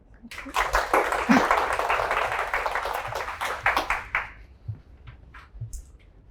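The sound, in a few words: audience applause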